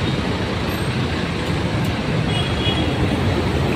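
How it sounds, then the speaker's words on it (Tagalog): Dense road traffic rumbles near the MRT EDSA station in Quezon City, a steady, loud wash of engines and tyres with no clear gaps, sounding alone without talk. "Ayan, nagkakaroon ng traffic dito sa lugar na to guys."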